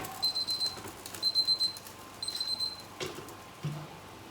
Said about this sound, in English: my thermometer's beeping